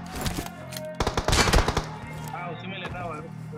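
Rapid bursts of automatic gunfire in the battle royale game BGMI, a loud cluster of shots over about a second, then quieter game effects and chirps trailing off.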